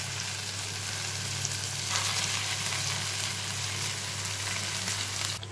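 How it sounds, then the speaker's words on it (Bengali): Marinated chicken pieces fry in a pan over a low flame, giving a steady, soft sizzle with faint crackling that holds even throughout, with no talking. "আমি চিকেনগুলি ভেজে নিয়ে এক এক করে লো ফ্লেমেই আমি ভাজবো।"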